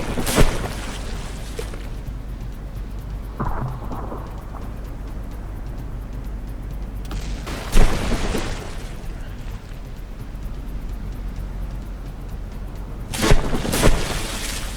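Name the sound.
battleship artillery plunging fire in From The Depths video game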